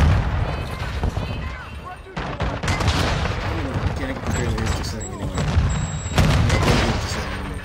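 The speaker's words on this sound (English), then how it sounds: "a claymore that just blew up and killed another dude" A claymore detonates in the cramped Shipment map of Modern Warfare II amid near-constant gunfire and booming blasts, a loud, chaotic barrage with a player talking over it.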